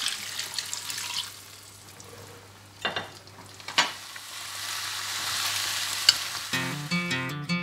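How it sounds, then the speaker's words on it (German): Meat for a wild game goulash sizzles in a hot pan, a steady close frying hiss broken by a few sharp stirring scrapes, with no one speaking and a brief tune rising at the end. "Fleisch raus und ab in die Pfanne"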